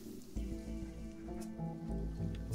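Rainfall in the video game Sheltered, a soft steady patter of drops with low tonal hum beneath, brief and close, no voices.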